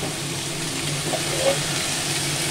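A fish-head curry of hilsa head sizzles in an uncovered pan as it is stirred, a continuous close frying hiss with light scrapes and no distinct talk.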